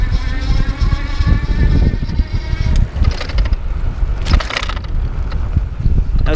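A Juiced CrossCurrent S e-bike under throttle, its motor whine half buried in loud wind rush and road rumble, with a few jolts from bumps as it rolls along outdoors.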